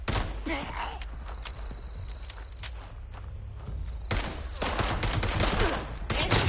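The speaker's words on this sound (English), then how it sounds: "A lot of bullets." Gunfire in the Fallout 76 video game, with rapid bursts of shots and sharp cracks amid footsteps and game noise, moderately loud and building toward the end, no talking.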